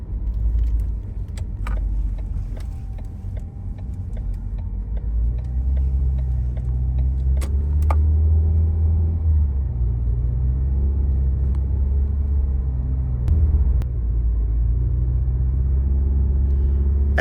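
A car with a cold transmission drives along with a steady low rumble. The engine note rises and falls gently, and a few faint ticks and rattles come from the cabin.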